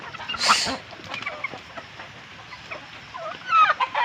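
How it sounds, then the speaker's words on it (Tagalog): Chickens cluck and squawk nearby in irregular bursts, with a sharp louder cry near the start and busy clucking toward the end. "mga manok natin"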